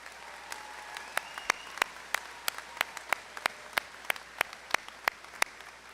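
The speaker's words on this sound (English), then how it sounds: "Let's give this amazing class of 2024 one more round of applause" An audience at a high school graduation claps in a steady, evenly spaced rhythm, each clap crisp and distinct over a quiet room hum, with no talking.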